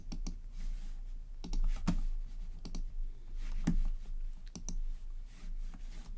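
A computer mouse clicks repeatedly during work in Illustrator, producing sparse, close, sharp clicks spaced irregularly over a low steady background hum.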